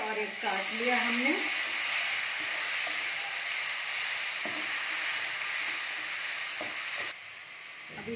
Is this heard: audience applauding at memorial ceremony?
no